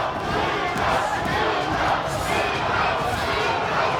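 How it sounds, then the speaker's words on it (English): A boxing arena crowd roaring during a fight, a loud, continuous wall of cheering and shouting that swells in waves, heard close and full, with no clear speaking voice standing out. "as we hear the crowd"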